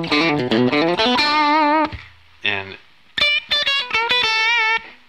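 Overdriven electric Strat with a brass tremolo block, played through a Tube Screamer model with no delay or reverb: sustained chords and single-note phrases with a gritty bite, near and loud, in short bursts separated by brief pauses.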